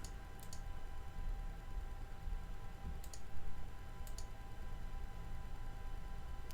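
Mouse clicks during a Windows XP setup running in a VMware Workstation virtual machine, three quiet, sharp clicks spaced a few seconds apart over a faint computer hum.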